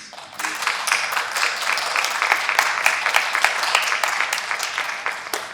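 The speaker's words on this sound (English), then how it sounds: "I just wanna give like a big round of applause for the writers, please" Audience at a dramatic TV pilot reading applauding the writers, dense steady clapping that swells quickly and holds evenly throughout.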